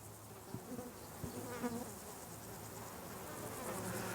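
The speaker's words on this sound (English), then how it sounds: "The bees are just feasting on it" Bees buzz softly while feeding on marjoram flowers beside a path at Wandlebury, a continuous low hum with several insects overlapping, fairly faint and close, with no talking.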